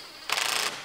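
A ratchet clicks rapidly in one short burst while tightening a battery hold-down bolt in a 2018 Ram Promaster City, close and crisp against quiet surroundings.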